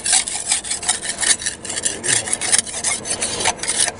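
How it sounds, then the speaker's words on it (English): Scraping old gasket material off the intake manifold of a 2003 Voyager 2.4 engine, a quick run of close, rasping strokes in steady rhythm, with no one talking. "I'm going to scrape off the old gasket"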